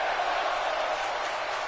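A wrestling crowd roars in a steady, dense wash of cheering, loud and continuous without a break.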